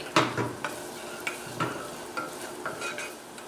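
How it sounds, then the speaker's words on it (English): Garlic sautés in a pan over medium-high heat, a soft steady sizzle broken by several distinct stirring scrapes, quiet and close with no voices. "And start sauteing the garlic."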